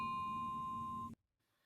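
A bell notification chime rings as one bright, sustained electronic ding with a clean ringing tone, holding for about a second before cutting off abruptly into silence.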